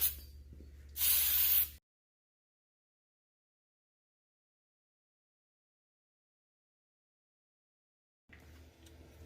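Brake parts cleaner sprays onto car brake calipers in two short pressurized hissing bursts, close and loud, the second stronger, followed by a long silence and then faint handling noise.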